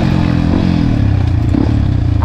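A trail motorcycle ridden on a rough off-road route near Cikalong Wetan, Bandung, thumps loudly and close up with a steady pulsing engine note and light rattling clatter from the bike.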